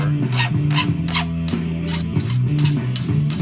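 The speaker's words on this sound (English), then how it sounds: "Now I want you to chamfer or like cut a little bevel all around here. On a bench grinder." A bench grinder chamfers the end of a steel fuel line for a GM Chevelle carburetor, producing about nine short, rhythmic rasping bursts over a steady motor hum, loud and close.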